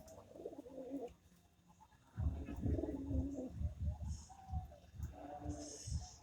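Pigeons coo in low, throaty repeated rumbles nearby in a rooftop cage, with a few brief higher chirps mixed in as a large pigeon pecks at a young one.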